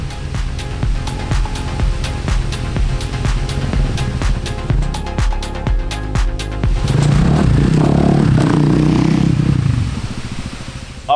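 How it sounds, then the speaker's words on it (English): Motorcycle engine and exhaust echoing through a tunnel, with rapid ticking pulses building into a louder, rumbling roar before it drops away. "the exhaust sound running through that tunnel is going to be sick"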